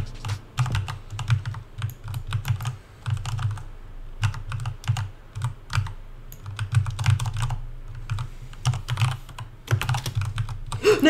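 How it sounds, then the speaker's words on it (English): Rapid bursts of clicky computer keyboard typing sound close and clear, in uneven clusters of keystrokes separated by short pauses, with no talking. "I was typing."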